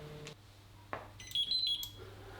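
A brief electronic timer alarm from an Electrolux induction hob beeps in a short, high-pitched burst of chirping tones, preceded by a couple of soft clicks and knocks nearby.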